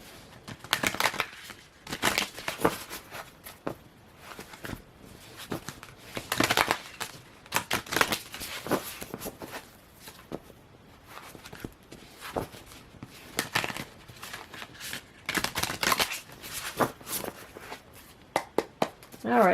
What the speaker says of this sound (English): We'll start shuffling these cards.